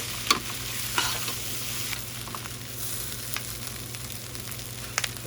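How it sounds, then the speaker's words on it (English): Herbs and bean sprouts stir-fried into Southeast Asian-style fried rice in a hot pan, a steady sizzle punctuated by occasional sharp clanks of a utensil against the pan, with no talk. "We're going to go in with our herbs and our bean sprouts. Stir fry that all together."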